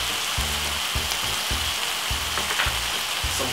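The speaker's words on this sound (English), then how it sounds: "you're getting the meats brown off" Ground meat for lasagna browns in a hot pan, giving a constant close crackling sizzle with repeated low scraping knocks as it is stirred.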